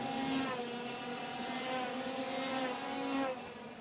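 Senior X30 racing karts circling a kart track during a race final, a steady high-pitched engine drone with layered whining tones from several karts, holding fairly level before easing off near the end.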